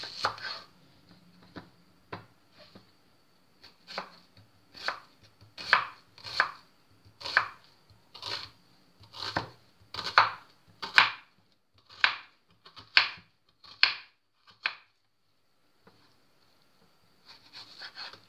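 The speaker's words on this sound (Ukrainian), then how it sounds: "Одну невелику цибулину нарізаю дрібним кубиком." A knife dices a small onion on a cutting board, a run of about fifteen crisp, evenly spaced strokes, close and fairly loud, with a short pause and a few more at the end.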